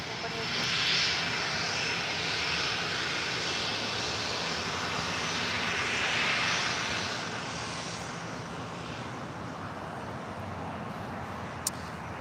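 Airbus A350 jet engines rumble and whine steadily as the aircraft taxis toward the gates at Tom Bradley terminal, LAX, a broad hiss that swells and eases slightly, with a brief click near the end.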